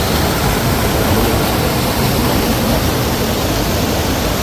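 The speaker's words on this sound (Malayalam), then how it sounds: "ഈ പുഴ നല്ല ഭംഗിയുള്ള പുഴ നല്ല ഒഴുക്കുന്നുണ്ട്" Steady broadband rush of river water flowing past a Kerala house, a continuous dense wash with no breaks, loud and even throughout with no voices.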